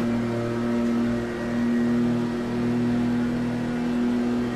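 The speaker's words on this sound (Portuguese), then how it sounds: "Em quarta marcha ele chega em... Ó, tá acelerando ainda, galera." Ferrari Dino 246 GTS engine accelerating in fourth gear in the racing game Test Drive Unlimited 2, a steady sustained drone that pulls toward top speed with a slight rise and fall, with no talk over it.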